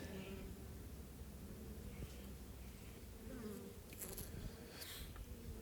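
Honeybees buzz faintly and steadily around a mini nuc hive outdoors in winter, a soft continuous drone with occasional closer passes.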